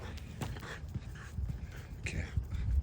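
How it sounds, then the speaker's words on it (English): A micro bully dog pants in quick, close, uneven breaths, with scuffling steps, on a 3 a.m. walk along a street with road construction. "This is my dog Luna."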